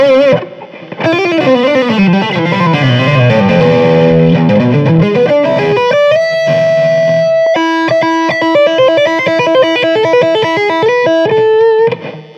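Heavily distorted electric guitar plays loud, sustained chords and bending notes through an overdriven Peavey 5150 amp, with no voices.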